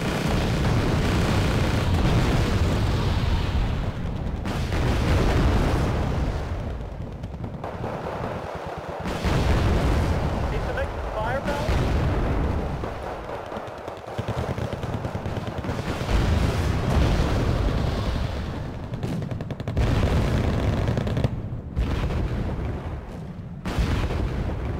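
Grenade launchers fire in the Wargame Red Dragon strategy game, a near-continuous barrage of booming explosions and rumbling impacts that rolls on loudly for about twenty-five seconds with only short lulls.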